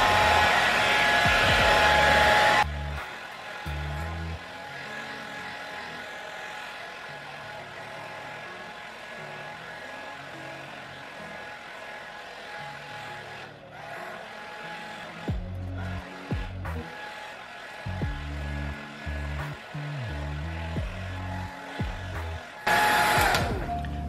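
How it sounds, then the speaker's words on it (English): A red budget blow dryer from Walmart runs steadily on medium warm heat while drying a section of hair, a continuous close whir with slight shifts in pitch and airflow as it moves, with a brief louder burst at start and end. "And I'm gonna go ahead and blow dry this first section."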